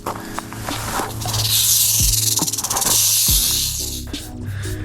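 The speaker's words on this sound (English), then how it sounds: "That's a big male rattlesnake right there." A big male rattlesnake rattles and hisses steadily during a backyard relocation in Arizona, a continuous dry buzzing hiss up close, with intermittent thumps and rustling underneath.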